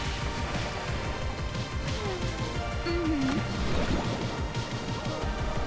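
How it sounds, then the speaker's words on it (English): Underwater bubble effects in the Disney Speedstorm racing game, Atlantica area, a dense continuous bed of game sound with brief rising bubbly warbles over steady engine and music noise. "I love the bubble sounds."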